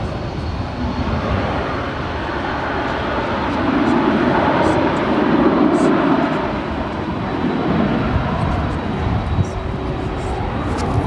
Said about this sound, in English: This is UPS flight 2918 heading to Ontario, California. 767-300ER, just 9 years of age.